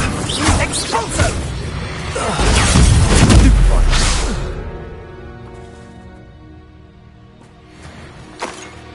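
An Expulso blast spell cast in the wizarding game Hogwarts Legacy, with a loud whooshing crash and booming burst in the first four seconds that fades into a quiet tail, alongside brief spoken words.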